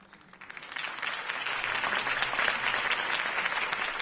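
Applause from a crowd after a political campaign speech swells within the first half second and holds steady, a dense patter of many hands clapping, fairly close.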